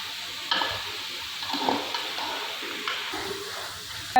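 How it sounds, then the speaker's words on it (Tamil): Beef biryani masala being stirred in a pan, with a low sizzle of frying and scattered scraping knocks of the spoon against metal, close and moderate in level, with no talk. "பச்சை வாசனை போகிற அளவுக்கு நல்லா கிண்டிகிட்டே இருக்கணும்"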